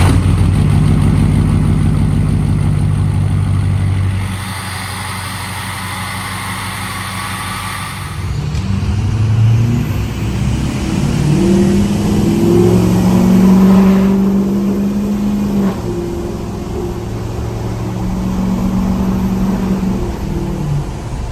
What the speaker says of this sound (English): we're going to start off by firing up the old 6-liter